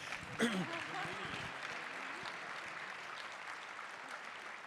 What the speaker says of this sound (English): Can we give Chad and Crystal Hershey a big, gigantic round of applause?